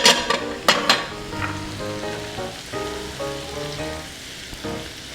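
Garlic simmering in butter in a pan gives a close, soft, continuous sizzle and crackle, with a few sharper pops at the start and no talking.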